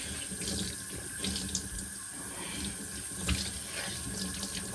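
Tap water runs steadily in a sink while a Shark NV501 vacuum filter is rinsed, with a continuous splashing hiss and small irregular spatters as the filter moves under the stream.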